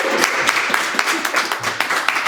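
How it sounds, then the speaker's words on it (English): An audience at a career talk claps for a speaker introduced as CEO, a steady, moderately close patter of hands with a few louder claps and some voices underneath. "A better clap for the CEO, guys."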